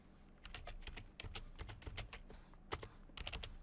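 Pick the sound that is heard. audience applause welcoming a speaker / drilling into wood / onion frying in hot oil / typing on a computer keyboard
typing on a computer keyboard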